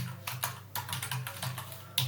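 Code typed on a computer keyboard, a quick run of close, crisp key clicks in irregular bursts with no voices.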